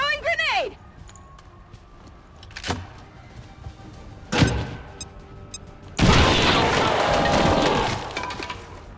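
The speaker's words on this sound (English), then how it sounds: "Throwing grenade!" A grenade blast in XCOM 2 breaks into a loud, sustained roaring rumble after a few sharp cracks and thuds, with game voices earlier in the scene.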